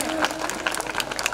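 A crowd at a village Independence Day speech claps steadily and loudly, dense hand claps filling the moment without a break.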